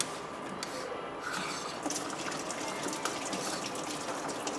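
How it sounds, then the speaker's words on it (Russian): Liquid antifreeze drains from the cooling system of a BMW E90 with an M47N2 diesel engine, a steady splashing gush of fluid pouring into a container, continuous and fairly close with occasional drips. "Выбираем наиболее удобное место для слива антифриза."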